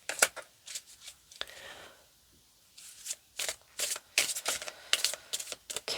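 Reading cards are shuffled by hand in quick, crisp riffling bursts with short pauses between them, close and fairly quiet.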